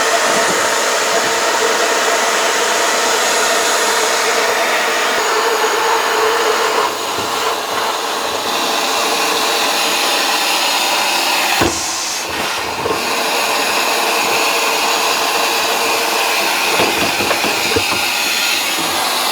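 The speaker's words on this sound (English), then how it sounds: "So let me turn the vacuum on." Vacuum cleaner running with a Holikme dryer lint vacuum attachment, a loud steady high-pitched whoosh of suction lasting throughout, with brief dips and rattles as the hose moves inside the dryer.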